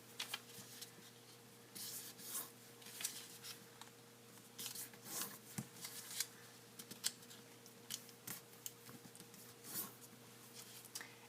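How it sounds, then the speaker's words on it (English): A sheet of paper being folded for origami, with soft close-up crinkles, rubs and creases over a steady low background hum. "we're going to just fold the paper in half one way and in half another way"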